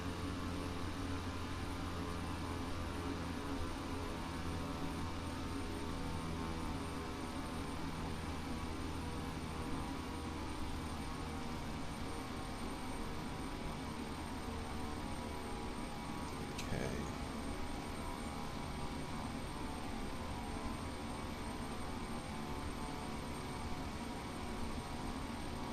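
A light airplane engine drones steadily in the cockpit on a flight from Boston to Nantucket, a constant, even hum with a slightly raised throttle and no talk.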